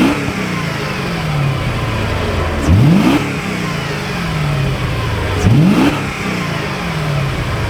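A 2002 Mercedes-Benz SL500 Silver Arrow Limited Edition V8 revving loudly and close by, with two distinct rising throttle blips over a steady idle.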